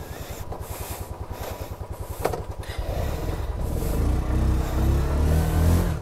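A 125cc motorcycle engine in the mountains near Keylong, Ladakh ride, thumping with a steady rapid low pulse, then revving up louder and pulling away as the bike rides off, close by and alone.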